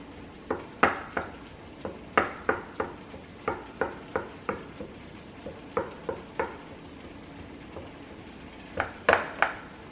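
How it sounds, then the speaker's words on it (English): The bottom of a spatula handle is jabbed repeatedly into a pan of pantry treats, giving a run of crisp, close knocks and clinks in uneven clusters, with a faint sizzle underneath. "I'm gonna take the bottom of this spatula and I'm just gonna poke a couple holes in here"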